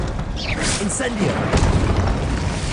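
A fire spell is cast in Hogwarts Legacy: a whooshing, crackling burst with a low boom, mixed with swirling magical effects and a shouted voice, loud and close.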